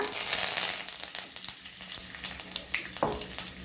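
Curry leaves hit hot oil already crackling with mustard seeds and cumin for a school-style khichdi tempering. A dense, continuous sizzle and spatter flares sharply near the end.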